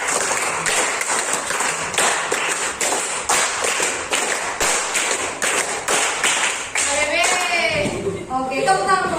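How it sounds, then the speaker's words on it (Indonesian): A group of people in a classroom session claps in sharp, evenly spaced unison bursts for a counting game, a clear rhythmic pattern of claps that ends as voices start talking. "tepuk 5, tepuk 5, tepuk 5 kali"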